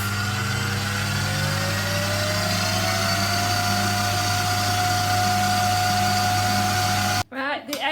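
An electric hand mixer whisks egg whites for a chocolate Yule log, a steady high whirring drone that rises slightly in pitch, then cuts off abruptly near the end.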